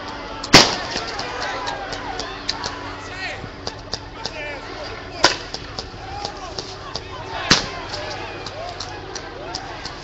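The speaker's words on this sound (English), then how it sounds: "I think these might just be flashbangs." Sharp, loud bangs of flashbangs or chemical munitions at a street protest in St. Louis, three distinct blasts spread apart over steady crowd murmur and shouting voices.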